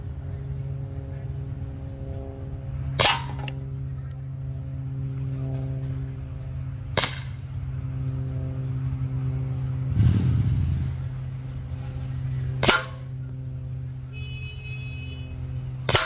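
Daisy Power Line Model 45 air pistol firing four sharp, evenly spaced cracks over a steady engine-like rumble, with a brief scuffing noise between the second and third shots.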